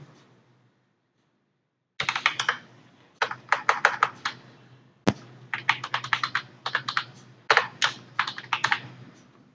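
A mobile number typed on a computer keyboard while filling in an online driving licence application: close, crisp key clicks in quick bursts, separated by short pauses, with no talking.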